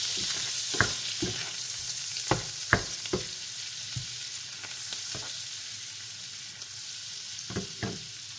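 Butter and garlic sizzle in a pan for garlic butter shrimp, a steady soft crackle broken by a few sharp clinks of a utensil against the pan, with no talking.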